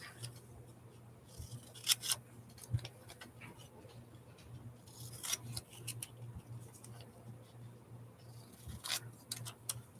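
Scissors snip magazine pages apart in quick close clicks, irregular bursts of sharp blade closures and faint paper rustling over a low steady hum, fairly quiet overall.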